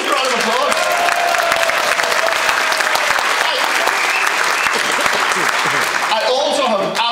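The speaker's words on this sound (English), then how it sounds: "Round of applause." Audience applause, a loud sustained burst of clapping from a crowd filling the whole stretch, with a voice rising over it near the end.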